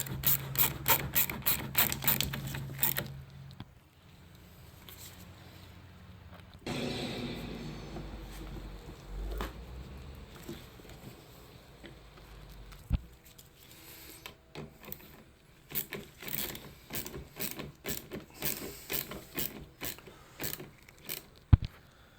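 Ratchet cranking down hose clamps on the radiator hoses of a 2011-2022 Dodge Durango 3.6L Pentastar, with rapid bursts of close, crisp clicking separated by pauses and some clunking handling noise.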